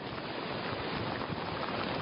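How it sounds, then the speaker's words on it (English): Strong wind roars with crashing surf on the Atlantic coast at Satellite Beach, Florida, during Hurricane Matthew, a steady, dense rush of noise with no breaks. "It's getting extremely windy out here to the point that it's becoming a little bit of a challenge to stand."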